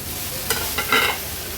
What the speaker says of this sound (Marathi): 1-2 ते 3 मिनिटासाठी फक्त हाय फ्लेमवर मशरूम आपल्याला ह्या भाज्यांसोबतच शिजवून घ्यायचे आहेत।